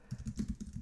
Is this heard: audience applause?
no